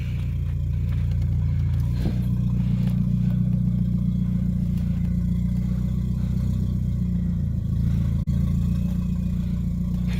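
A turbocharged engine in a Mk4 VW Golf runs at a steady, loud drone for the whole stretch, close by, with a short dip near the end and no talking over it.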